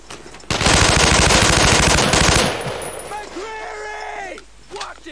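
Sustained machine gun suppressing fire in the Brothers in Arms World War II shooter, a loud dense burst lasting about two seconds, followed by shouted voices and softer battle noise.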